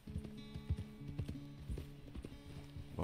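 Horse hooves clip-clop in Red Dead Redemption 2, a steady run of close, loud hoofbeats over a sustained low musical drone, with no talk.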